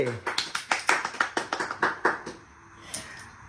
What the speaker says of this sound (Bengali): আরে হাততালি দে।